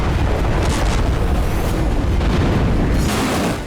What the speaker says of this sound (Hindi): ये तवेर में धमाके की तस्वीरें।